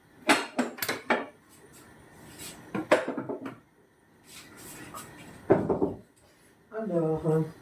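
A saucepan is handled in a kitchen while milk is heated, giving several sharp metallic clanks and knocks in bursts, with a voice talking between them.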